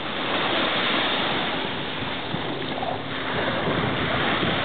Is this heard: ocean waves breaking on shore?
yes